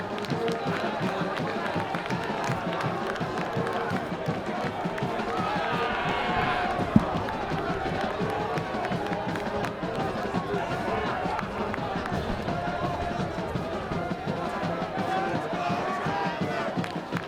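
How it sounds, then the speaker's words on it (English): Wakefield student section and home crowd at a Thanksgiving Day high school football game against Melrose, roaring in a broad sustained cheer after a safety, steady and dense throughout with talk mixed in. "this student section and this Wakefield crowd is electric after that big safety"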